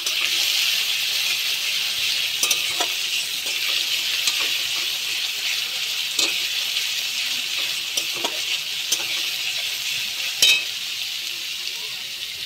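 Green chilies fry and sizzle steadily in a pan, with a spatula scraping and stirring in sharp clicks over the constant hiss, close and fairly loud.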